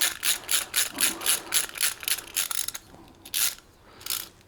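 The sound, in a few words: bolt threading in a Honda X-ADV foot peg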